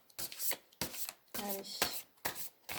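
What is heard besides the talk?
shuffling a deck of tarot cards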